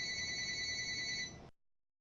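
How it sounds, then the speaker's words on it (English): A telephone rings with a steady, continuous electronic trill, clear and moderately close, then cuts off abruptly after about a second and a half, leaving silence. "You hear that phone? I wonder who it is."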